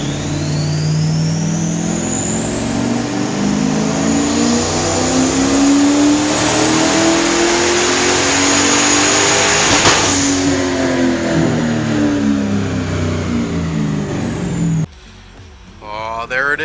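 A turbocharged Corvette engine screams through a dyno pull, its rising, sweeping harmonics climbing steadily and loud for about fifteen seconds before abruptly cutting off into quieter deceleration.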